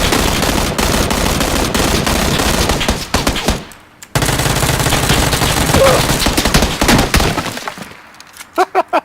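Gunfire in a shooter video game, loud automatic bursts and rapid shots with cracks of impact, a brief lull near the middle, then a few final isolated shots; voices talk at times underneath.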